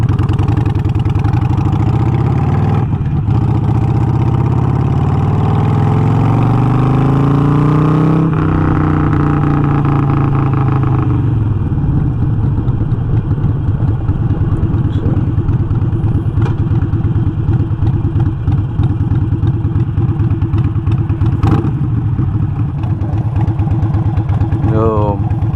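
A motorcycle engine runs close by, a steady low idle that rises in a revving sweep and settles back, with someone talking over it.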